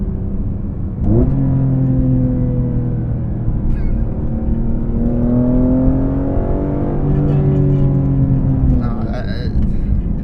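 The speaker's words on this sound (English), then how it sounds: "Let's see on downshift how it sounds." A BMW E46 M3 with a carbon fiber intake downshifting, its engine note rising in loud stepped revs and then settling into a strong drone, heard from inside the car with a person talking over it.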